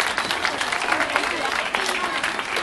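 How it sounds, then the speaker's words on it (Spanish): Steady, fairly close applause from an audience welcoming a young performer at a music recital, a continuous dense patter of hand claps with no voices over it. "así que fuerte aplauso para María."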